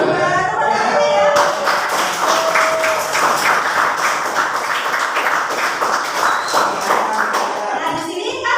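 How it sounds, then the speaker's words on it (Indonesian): Students in a classroom clap for the winning group, a dense run of hand claps for several seconds, near and lively, with voices chattering over it. "Tepuk tangan ya."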